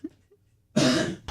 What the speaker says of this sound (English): When you cough?